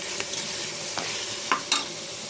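Vegetables for a vegetable biryani, seasoned with salt and crushed garlic, cumin and ginger, fry in a pan as a spoon stirs them; steady sizzling runs throughout, with a few louder scraping strokes near the end.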